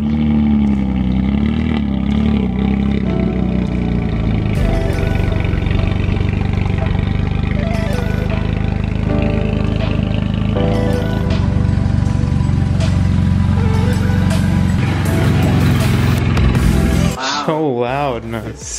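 A loud, raw engine roar with deep rumbling harmonics from a BMW 135i cold start with a near straight-pipe exhaust, resonator only, running steadily for most of the stretch before revving sharply near the end.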